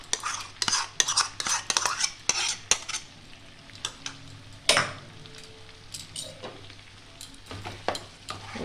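A spoon scrapes and clatters in a pan while mutton curry with yogurt is stirred, irregular metallic knocks and scrapes over a soft, continuous sizzle, with a few quieter pauses between bursts of stirring.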